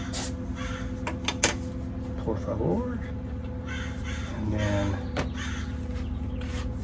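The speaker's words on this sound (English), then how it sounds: "Crow is going off." A crow caws several times outdoors, moderately near, in sunny weather during garden work, with someone talking over it and low background hum.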